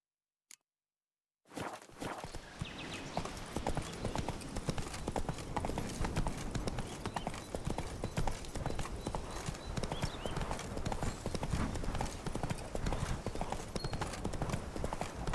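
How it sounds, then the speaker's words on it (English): Horse hooves clip-clop steadily in The Witcher 3: Blood and Wine, starting after a second of silence and continuing as a dense, even clatter of footfalls, close and moderately loud. "Whoa there, Roach"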